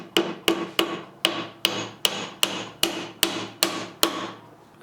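Survival tool used as a hammer to drive nails, eleven sharp metallic strikes in an even rhythm with a short ringing decay after each, close and loud with no talking.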